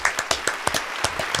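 A man on a sports talk radio show claps for himself, a string of several close, distinct hand claps in an irregular rhythm with no talking.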